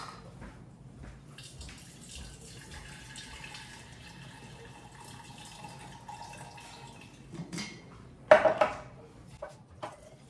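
Water trickles and fills a vessel over tea bags while tea for kombucha is brewed, a soft steady pour with faint liquid gurgles, ending in a few louder splashes and clinks close by.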